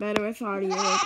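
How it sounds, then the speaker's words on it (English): A goat bleats in a wavering, nasal call that runs almost continuously under a man's nearby speech. "You can hear a goat in the background."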